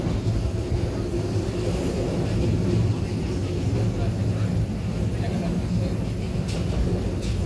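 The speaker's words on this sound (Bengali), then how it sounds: "পাহাড়ের মধ্যে দিয়ে আমাদের ট্রেনটা" Train travelling from Dhaka to Sylhet through hilly country, a continuous low rumble and rattle of wheels and carriages heard from on board, steady and fairly loud throughout.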